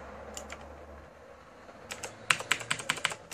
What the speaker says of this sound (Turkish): Klavyenin sesi bu arada mükemmel geliyor.